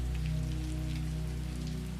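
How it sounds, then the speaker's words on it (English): Gentle, warm rain falls steadily and evenly on surfaces, a soft continuous patter with a low steady hum beneath it and no voices. "blending with the sound of the rain"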